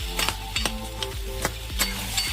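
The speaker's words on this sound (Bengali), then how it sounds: "আমি ভাজা মাছের মাথাগুলোকে দিয়ে খুন্তি দিয়ে চিপে চিপে ভেঙে দিলাম" Fried fish heads are pressed and broken with a metal spatula in a pan of cabbage, giving repeated sharp scraping clacks in an uneven rhythm over a soft frying sizzle, close and fairly quiet.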